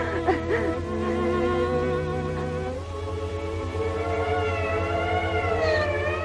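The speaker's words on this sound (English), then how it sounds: "The ambulance." A siren wails continuously with rising and falling pitch, loud and close, over a low engine hum.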